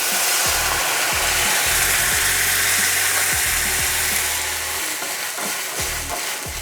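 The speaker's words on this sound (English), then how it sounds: "we're gonna take our Marsala wine and deglaze the pan" Marsala wine hits a hot pan of browned shallots, a loud steady hiss of sizzling and boiling liquid that fills the clip and eases slightly toward the end, with occasional low clunks.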